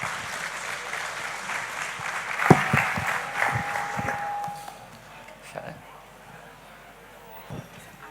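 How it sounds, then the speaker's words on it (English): Audience applause at a talk on Elliott wave analysis, a burst of clapping from a crowd that swells then fades over several seconds, with a voice speaking over it. "So let's have a huge round of applause for Mr."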